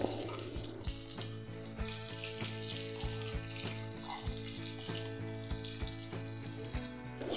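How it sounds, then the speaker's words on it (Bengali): Potatoes frying on medium flame for a cabbage posto dish, with a faint steady sizzle and light periodic knocks of stirring, set against a continuous tonal background hum. "এবারে আমি আলুগুলোকে মিডিয়াম ফ্লেমে একটু গোল্ডেন হওয়া পর্যন্ত ভেজে নিচ্ছি"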